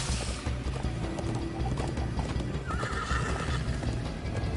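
Horse sounds from the Minecraft Story Mode video game: steady clip-clop hoofbeats of galloping run throughout, with a drawn-out neigh or whinny rising midway over a busy, continuous game soundtrack.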